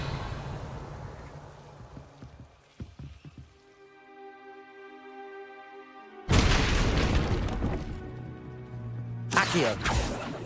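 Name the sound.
Revelio spell cast in the video game Hogwarts Legacy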